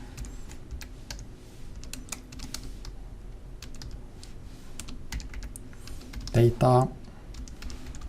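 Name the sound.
typing on a computer keyboard in Microsoft Word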